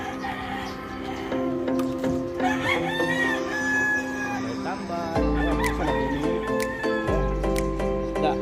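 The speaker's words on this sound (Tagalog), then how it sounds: "May mga manok." Chickens cluck and a rooster crows amid a busy outdoor scene, with a brief voice speaking and steady low background noise.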